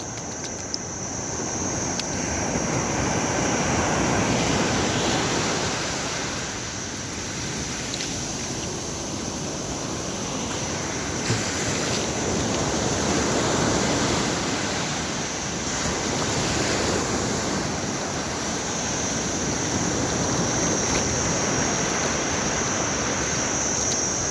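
Sea waves wash onto the shore in slow, swelling surges, a continuous broad rush with no voices.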